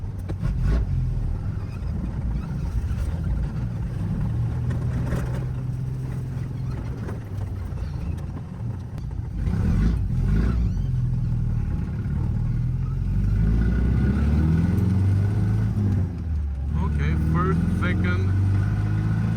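A Triumph TR4A that runs rough and lacks power drives off on a test run, its engine a steady low rumble that swells as it accelerates, with someone talking over it.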